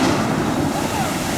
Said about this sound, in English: There's definitely some splash there.